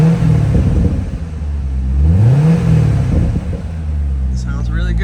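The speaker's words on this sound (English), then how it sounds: "I'll give it a couple revs." A 2012 Chevrolet Corvette Grand Sport convertible, Centennial Special Edition 3LT with automatic transmission, idles with a deep rumble, then gets a couple of rising revs that swell and fall back, heard close up, with brief talk near the end.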